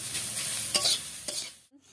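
Spinach and egg stir-fried in a pan, a steady close sizzle broken by two sharp scraping stirs before the sound drops away to near silence at the end.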